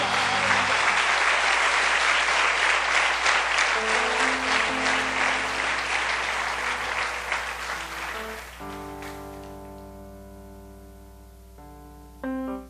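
A church congregation claps loudly together, with the sound building into a dense wash and then fading as held organ or keyboard tones take over. Faint voices mix in beneath the applause.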